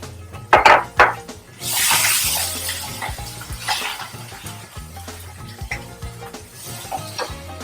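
Garlic and ginger dropped into hot oil with cumin and mustard seeds for Mumbai vada pav, giving a loud burst of sizzling that settles into a steady crackling fry, with stirring knocks and clinks against the pan.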